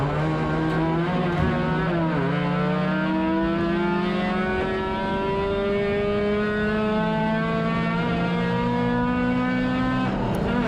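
Spec-Mazda race cars at Suzuka circuit, with a continuous loud, close engine drone whose pitch rises and dips as the cars shift gears, heard alone without talk.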